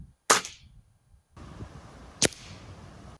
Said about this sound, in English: So this will be the third shot, y'all.